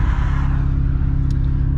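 A turbocharged Mazdaspeed3 engine of over 600 horsepower hums steadily and close while pulling away from a stop, a low rumbling drone with a brief high whine near the end.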